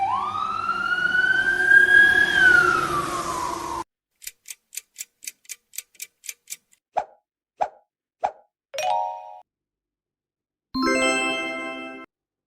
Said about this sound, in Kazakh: бұл өрт сөндіру көлігі.